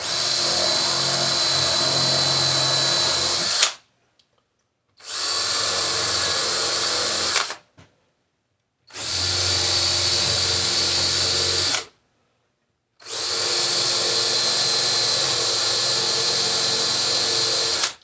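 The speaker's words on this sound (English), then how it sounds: "you really got to use some control with that drill and not punch through" A power drill bores holes into a wooden bench during leg installation, running in four long steady bursts of several seconds each with short pauses between, loud and close with no talking.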